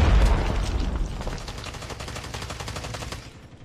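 Rapid automatic gunfire in COD Mobile, a loud dense burst of shots starting heavy and booming, then a steady rattling stream that fades slightly toward the end.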